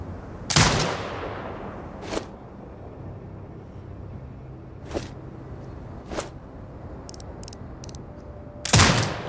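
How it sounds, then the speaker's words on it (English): Turret fire in the video game Sniper Ghost Warrior Contracts 2: a few sharp, isolated booming shots spaced seconds apart over a low ambient rumble, with a final loud blast at the end. "Exit binocular mode and command the turret to fire."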